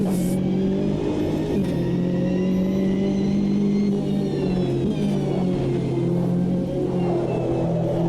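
A GTE race car in the Automobilista 2 racing game accelerates out of a corner, its engine note steadily climbing in pitch with a loud, sustained mid-range drone and no talking.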